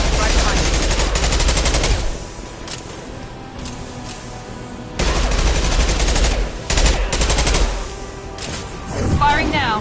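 Rapid automatic gunfire in Mass Effect 2 rattles in dense bursts with heavy low booms, pausing briefly around the middle before resuming loudly, while a voice speaks intermittently beneath it.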